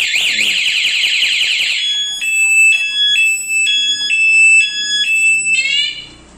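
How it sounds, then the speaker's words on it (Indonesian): A cheap motorcycle alarm blares loudly and close by, first a rapid warbling siren, then a repeated stepped beep-tone pattern that rises and cuts off. "Nanti dia di kontak on, cuma nanti alarmnya bunyi, di starter juga nggak bisa."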